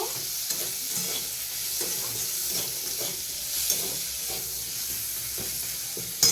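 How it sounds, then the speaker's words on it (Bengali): Shrimp lightly fry in a pan with oil for a bottle gourd curry, a dense steady hiss of sizzling with soft stirring scrapes throughout and one brief clatter near the end, no talking. "ওর উপরেই চিংড়ি মাছগুলো দিয়ে দেবো, দিয়ে হালকা একটু কষে নেব"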